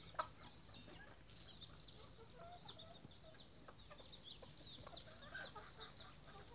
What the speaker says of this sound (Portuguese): Ali tem uns pintinhos